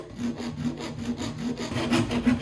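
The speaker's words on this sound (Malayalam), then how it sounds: "അപ്പോൾ ഈ PVC നമ്മൾ ഏകദേശം ഒരു ഹൈറ്റ് നമുക്കൊരു അഡ്ജസ്റ്റ് ചെയ്യേണ്ട ഒരു ഹൈറ്റ് വെച്ച് നമ്മൾ കട്ട് ചെയ്യുവാണ്" A 3/4 inch PVC pipe is cut with a hand saw, giving close, rhythmic rasping strokes in a steady back-and-forth pattern, about ten strokes with no talking.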